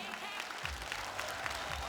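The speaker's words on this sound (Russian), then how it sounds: "Ваши аплодисменты" An audience at the Саҥа ырыа-2010 song contest applauds after a performance, with dense, steady clapping that fills the short moment and a faint voice beneath it.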